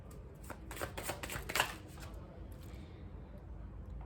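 Tarot cards are shuffled during a card-reading session, a quick burst of riffling and flicking strokes up close, then fading into quiet room tone.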